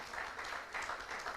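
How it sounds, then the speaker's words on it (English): Applause from a conference audience at a regional press freedom and democratic governance gathering in West Africa, welcoming the keynote speaker to the stage; a steady, moderately distant wash of clapping lasting the whole short stretch. "please help me welcome with a round of applause our keynote speaker this morning, Mr. Hamidou Tidiane Sy, as he comes up."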